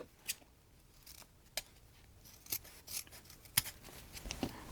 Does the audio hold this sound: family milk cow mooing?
no